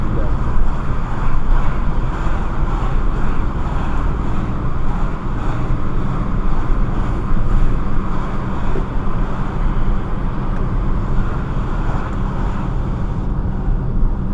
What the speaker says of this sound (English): Very windy outside, guys.